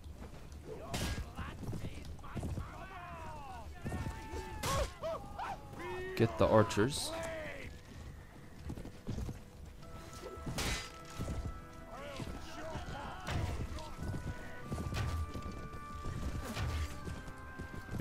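Hooves gallop during a mounted battle in Mount & Blade: Warband, a rapid thudding rhythm mixed with crashes, clashing weapons and horse whinnies, with someone talking over the fighting.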